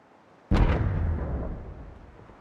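One loud, abrupt gunshot from a firefight in the video game Apex Legends, followed by a long rumbling boom that slowly fades, with no talk over it.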